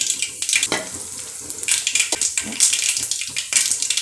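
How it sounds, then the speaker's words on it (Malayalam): Mustard seeds splutter and pop in hot oil in a home kitchen pan, a loud, irregular crackle with sharp bursts and a few spoon scrapes, no voices. "കടുക് പൊട്ടുന്നുണ്ട്."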